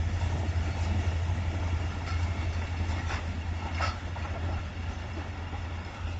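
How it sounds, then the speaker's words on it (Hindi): The 13 Up Awam Express passenger train rolls past Mando Dairo railway station near Rohri with a steady, deep rumble and faint wheel clatter over the rails. "ये है जी अवाम की अवामी 13 अप अवाम एक्सप्रेस।"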